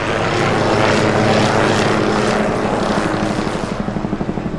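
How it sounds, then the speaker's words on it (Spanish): A rescue helicopter approaching and descending over snow in the Andes mountains, its loud thudding rotor and engine roar close and steady, the blade beat growing more distinct as it settles. "El primer helicóptero se acercó tanto al suelo que uno de los soportes de metal alcanzó a tocar la nieve"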